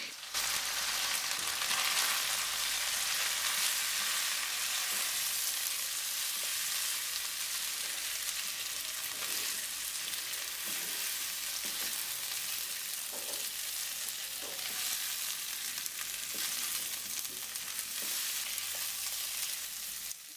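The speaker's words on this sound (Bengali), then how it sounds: "চালটাকে ভালো করে সবজি আর চিকেনের সাথে মিশিয়ে নেব।" Gobindobhog rice being stirred with vegetables and chicken in a pan for Bengali chicken pishpash, a steady loud sizzle with scraping stir strokes throughout, no talking.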